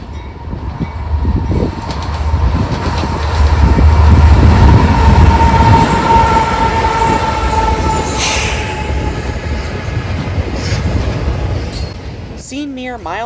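CSX intermodal freight train with an ES-44AH locomotive passing the Leap Road crossing in Hilliard, Ohio: a loud, sustained rumble of wheels and cars rolling by, a horn tone in the middle and squealing near the end.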